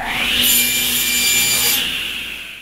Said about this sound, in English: I'm going to start by cutting out my 3/4 inch PVC pipe into 12 sections that are 10 inches long